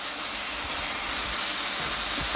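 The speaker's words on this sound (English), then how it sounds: "The fan's on." A kitchen fan runs while meat cooks in a pan, giving a steady, even broadband whoosh at moderate level with no voices over it.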